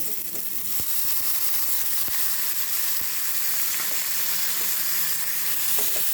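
Tomatoes frying with red chilli powder in a pan give a strong, continuous sizzle throughout, close and steady, with a few faint taps and scrapes of a spoon underneath.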